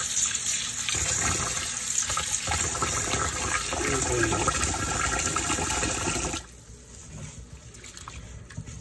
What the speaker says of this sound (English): Now we have to just rinse it like that.